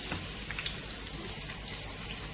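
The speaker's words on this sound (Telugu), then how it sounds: "ఇప్పుడు నూనె కాగింది కాబట్టి మనం వెల్లిపాయలు వేసేసుకున్నామండి." Garlic dropped into hot oil in a pan fries with a steady, close crackling sizzle that holds evenly throughout, with small pops scattered over the hiss and no talking.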